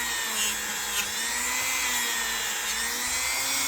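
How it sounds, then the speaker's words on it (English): A Dremel rotary tool polishes the blade of a vintage Hammer Brand Barlow knife: a continuous high-pitched motor whine holds steady, close and alone, with slight shifts in pitch as the tool presses on the metal. "If you want to highly polish using the Dremel, that's fine."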